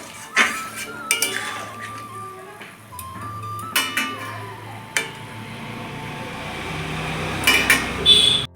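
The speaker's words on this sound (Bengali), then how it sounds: "ঢাকাটা আমি তুলে নিচ্ছি।" A metal lid on a pot of paneer and cauliflower curry is handled with bright clinks and clanks, several sharp metallic taps spread through the clip and a cluster near the end, no talk.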